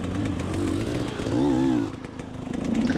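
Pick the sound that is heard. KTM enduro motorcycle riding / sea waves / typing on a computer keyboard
KTM enduro motorcycle riding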